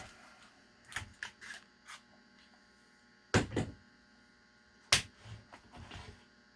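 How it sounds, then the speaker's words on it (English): Metal clamps are removed from a plaster rock casting mold in a quiet room, giving scattered close clicks and clanks, with two sharp louder knocks standing out over a low mains hum. "Take the clamps off first."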